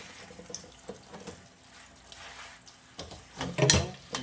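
Tap water runs softly over salted eggplant slices as they are rinsed in a kitchen sink for pasta alla Norma, with a faint trickle at first and a louder, close splashing near the end.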